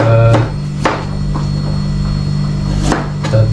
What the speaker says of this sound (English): so we're chopping now